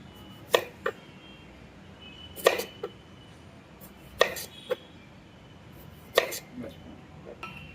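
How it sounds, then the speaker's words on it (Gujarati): A knife cutting a tomato into round slices for a homemade veg burger gives four crisp, evenly spaced chops against a board, each followed by a lighter tap, close up over a quiet background. "ટમેટાને પણ આવી રીતે ગોળ આકારમાં કાપી લેવું"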